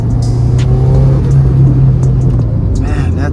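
A 400 hp Subaru WRX with a turbo and full bolt-ons rumbles loudly up close, with a short rev toward 4,000 rpm over a deep, steady exhaust drone, and the faint whoosh of another car passing.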